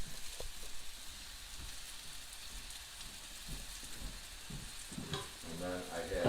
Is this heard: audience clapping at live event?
no